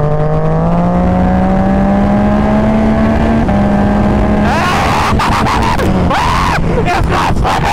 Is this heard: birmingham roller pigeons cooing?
no